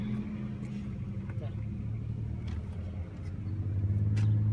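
A car drives past on a street, its engine hum swelling louder toward the end, with people talking over it.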